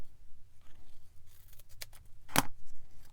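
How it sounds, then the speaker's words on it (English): Non-stick scissors make one crisp snip through a small piece of 3D foam, a short sharp cut near and alone against faint rustling. "That's a great thing about these non-stick scissors, is I can cut the foam and it's not going to stick"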